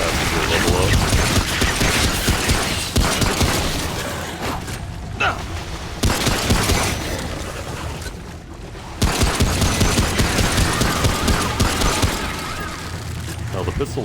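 Pistol gunfire in the video game Remnant, a dense run of sharp repeated shots and impacts mixed with game action and rumbling effects, continuing throughout.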